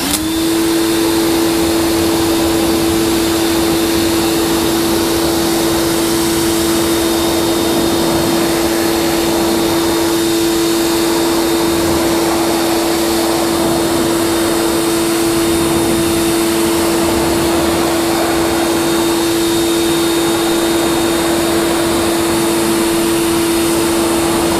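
A water spray rinses non-acid wheel cleaner off a car wheel in a loud, continuous hiss with a steady underlying hum and no voices.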